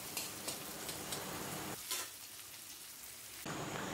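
Onions frying in a pan of hot oil for a snakehead fish curry, a steady loud sizzle that drops away briefly near the middle and then surges back strongly, with no talking.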